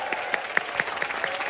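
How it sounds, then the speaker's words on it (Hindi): A studio audience claps for Sajid and Swara on a comedy entertainment show, with steady applause and several sharper individual claps standing out, close and lively. "एक बार जोरदार तालियां हो जाएं for Sajid sir and for Swara."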